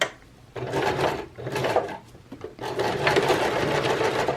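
A sewing machine stitches a zipper pillow cover in several short running bursts with brief pauses between them, close and clear, with no talking.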